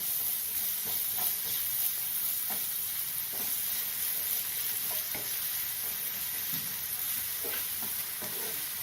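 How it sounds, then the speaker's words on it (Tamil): Chopped onions sautéing in a pan, a continuous bright sizzle with occasional scrapes and taps of a spatula stirring, close and steady throughout without any talking. "வெங்காயம் ஒரு 2 நிமிஷம் வதங்கட்டும்"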